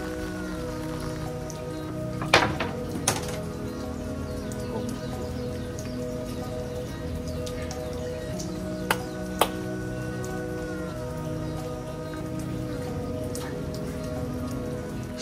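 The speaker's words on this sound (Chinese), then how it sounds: "下雨也是别有一番风味啊" Rain falls at a seaside shrine in Oarai, Japan, during a typhoon, making a soft, continuous patter with a few sharp knocks scattered through it. No one speaks.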